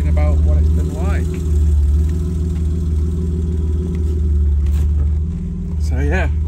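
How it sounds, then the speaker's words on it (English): A classic BMW E30 straight-six runs with a strong, steady low rumble and even engine harmonics, close and loud, with little change in pitch. A person speaks briefly over it near the start and again at the end. "Just give the car a few revs so you can hear what it sounds like. It's a straight 6"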